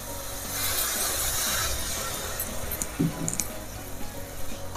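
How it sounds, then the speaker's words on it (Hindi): A little water poured into a pan of cooking tomato puree masala for a spicy pea curry, a soft splashing hiss with faint clinks and sizzle, steady and close with no talking. "थोड़ा ही पानी डालना है।"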